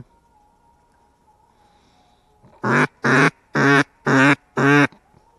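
Five loud, evenly spaced quacks from a duck call used while duck hunting, close and clear, after a few seconds of near silence with a faint hum.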